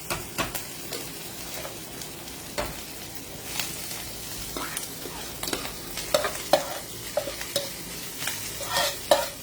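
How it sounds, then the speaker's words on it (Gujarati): Vegetables stir-fry in a pan over fried chili, giving a soft, steady sizzle broken by scraping stirs and small clinks, moderately close, with no talking. "આપણું મરચું પણ ફ્રાય થઈ ગયું છે. હવે હું સબ્જી નાખી દઉં છું."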